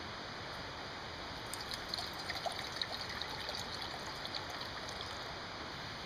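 The Zig Zag River flows steadily in the distance, a faint, even rushing wash with occasional tiny trickles and no voices over it.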